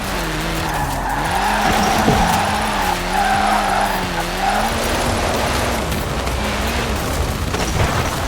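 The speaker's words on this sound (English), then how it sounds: "let's really shred those tyres" A car drifting in Forza Horizon 4, its tires squealing loudly and continuously over a revving engine that rises and falls as it slides through the corners.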